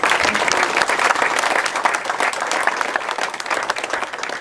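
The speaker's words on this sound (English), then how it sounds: "Round of applause." An audience at a ferry launch ceremony for the Keller Ferry Sanpoil in Washington claps steadily and densely, a sustained wash of applause from a crowd.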